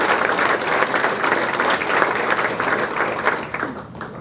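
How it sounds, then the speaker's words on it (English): Audience applause at a chamber of commerce annual dinner, a steady dense roll of many hands clapping that fills the room for about four seconds, tapering slightly at the end. "That's definitely worth applause."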